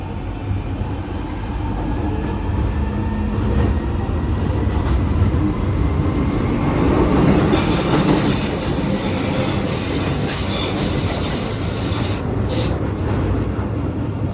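A London Underground train between London Bridge and Paddington rumbles along steadily through a tunnel while its wheels squeal in high, drawn-out shrieks that grow louder midway, loud and close.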